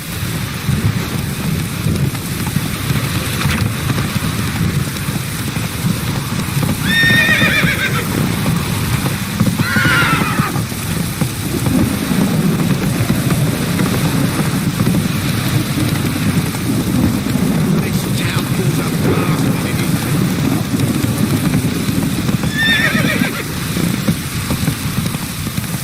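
A horse gallops in The Witcher 3, its hoofbeats drumming under steady rain and a rumbling game background, with several loud neighs and whinnies breaking through at intervals.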